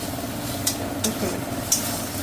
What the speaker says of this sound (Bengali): একটু নাড়াচাড়া করো, ঠিক ভাজাও না।